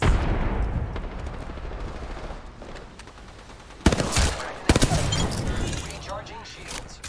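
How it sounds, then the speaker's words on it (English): Gunfire in the shooter Apex Legends, with scattered shots and a couple of sharp loud bursts midway over a steady background of game noise, and a game voice speaking at times. "I am taking fire shots."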